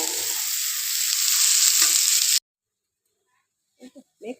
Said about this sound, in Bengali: ও আমার ভাজি হচ্ছে